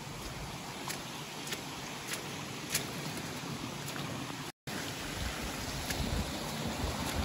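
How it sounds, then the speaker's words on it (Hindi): Waterfall in Pachmarhi running beside a walking path, a steady broadband rush of falling water heard close and continuous, with no talk over it. "अपन अपने साइड में झरना चल रहा है और अपन चल रहे हैं।"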